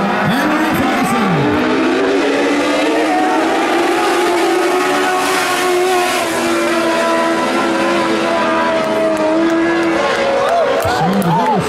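Modified race cars in a ModLite heat at the Montezuma County speedway in Cortez, Colorado roar loudly and continuously, with sweeping pitch bends as cars pass close by at the start and near the end, and an announcer's voice over the engines.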